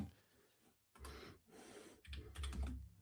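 Keys tapped on a computer keyboard come in a few quick clustered bursts separated by short pauses, close and fairly quiet, with faint breathing between them.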